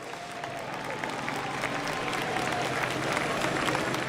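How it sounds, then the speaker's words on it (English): Crowd applause at a Formula Drift event in Long Beach, a steady patter of clapping heard from a distance under outdoor ambience, continuing throughout. "Round of applause for Mike Power, please, if you will"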